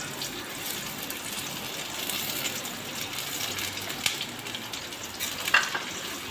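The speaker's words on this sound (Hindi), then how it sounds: "प्याज को फ्राई करेंगे।" Onion sizzles steadily in hot oil in a pan for an aloo ki katliyan dish, a continuous close frying hiss with a few faint clinks of stirring and no talk.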